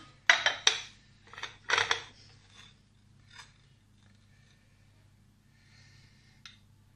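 A large plate is taken out in a kitchen during ice cream cake preparation, giving a few sharp ceramic clinks and clatters close by in the first two seconds, then a faint knock and quiet room tone.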